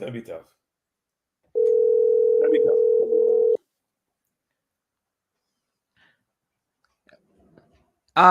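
A telephone line opening during a late-night football call-in show gives off a steady, loud dial tone that lasts about two seconds and stands alone. Brief speech can be heard just before it.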